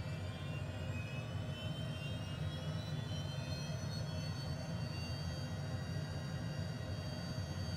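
HondaJet turbofan in Microsoft Flight Simulator held on the brakes at 40% power: a steady, even jet roar with a high whine that rises gradually, continuous throughout with no talk.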